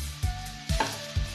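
Mashed boiled potato with turmeric and chili powder frying in a pan for aloo bonda filling, with three soft scraping stirs over a low steady sizzle, close and without talk.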